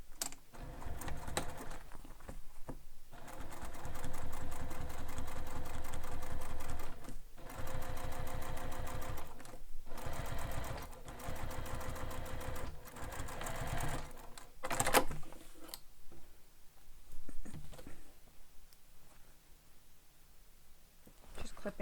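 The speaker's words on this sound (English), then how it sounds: "again, top stitch that B panel" Sewing machine top stitching a bag panel, running in long rapid bursts with short pauses between seams, close and steady.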